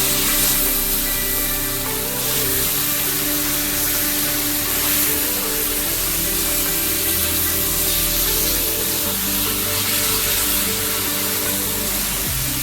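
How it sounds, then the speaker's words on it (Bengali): Boiled taro leaves hit a hot frying pan already seasoned with dried chili, sending up a loud, dense, continuous sizzle that holds steady throughout, with faint steady tones underneath. "এবারে দিয়ে দেবো কচুর শাকটা"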